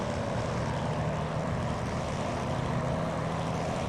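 An iniBuilds P-40F Warhawk propeller engine in a flight simulator drones steadily and loudly, a constant rumbling hum with low tonal harmonics and no talking.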